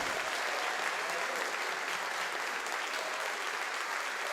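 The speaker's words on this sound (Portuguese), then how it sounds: "Você pode aplaudir ao Senhor? Você pode aplaudir mais?" Church congregation applauding, a dense, steady wash of many hands clapping at once that fills the room without pause for the whole stretch.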